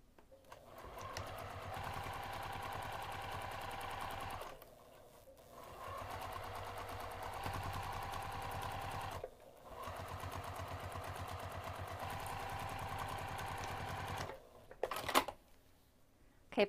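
A sewing machine stitches a half-inch seam allowance in rapid, even mechanical bursts, running steadily with two brief pauses before a final short run, close and alone.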